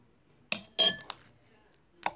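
A metal spoon clinks against a container while slime activator is added, giving a few bright, close taps and scrapes spaced irregularly with quiet gaps in between.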